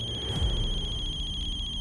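A telephone ringing indoors, a steady electronic trill pulsing rapidly and evenly at moderate volume for the whole span, with no voices.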